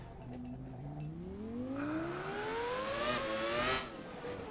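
A Williams FW19 Formula 1 car revs hard in the Assetto Corsa racing game, its engine note climbing steadily in pitch through the gears, loud and up close, then easing off abruptly near the end.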